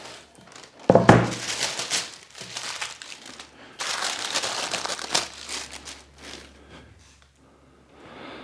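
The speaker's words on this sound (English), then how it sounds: "Then the wax paper just comes right off and protects your clamps." Wax paper crinkles and peels away from a freshly glued wooden cutting board, a loud crumpling tear near the start followed by bursts of rustling and crackling, close and alone.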